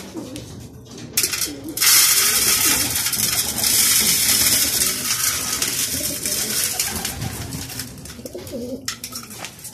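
Racing pigeons coo in low, throaty murmurs against a steady rushing background hiss, continuous and fairly close.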